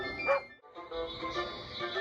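A dog barks once, close and sharp, before a steady bed of mixed background sound continues.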